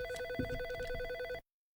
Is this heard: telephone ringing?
yes